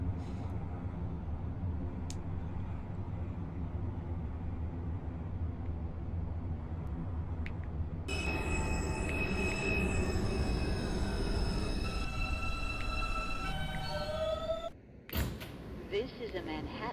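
An R160B subway train on the R line, simulated in OpenBVE, runs with a steady loud rumble and rising whine, then brakes with squealing tones near the end.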